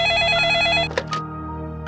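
A telephone rings with a bright electronic trill, then the tone breaks off into a brief pause and a softer lingering beep.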